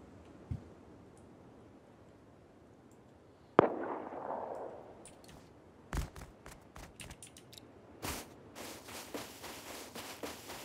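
Grenade blasts in an online shooter game during a raid: a sharp bang near four seconds with a rumbling tail, followed by a string of loud cracking bursts and clattering impacts, with no talk.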